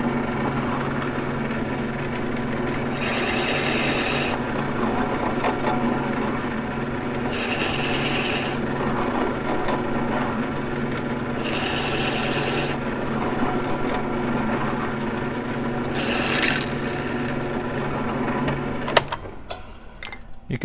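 An acrylic pen blank spins on a lathe under a skew chisel, giving a steady motor hum with a light scraping hiss and several brief, brighter cutting bursts at slow intervals before a few sharp knocks at the end.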